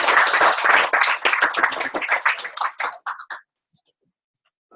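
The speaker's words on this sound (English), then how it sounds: "John, a round of applause." A small audience claps in a short, fading round of applause at a live talk, loud at first and thinning out before stopping into silence.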